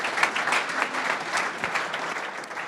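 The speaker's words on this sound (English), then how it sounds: "Round of applause for Bloom Diet." Audience applause after a startup pitch at a tech village pitch night, a steady wash of clapping hands filling the room for a few seconds with no one speaking.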